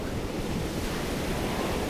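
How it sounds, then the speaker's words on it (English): Fierce wind over the open sea with crashing waves, a dense, steady roar of surf and gusting air that stays loud and unbroken throughout, with no voices. "The wind is fierce tonight. It tosses the sea's white hair."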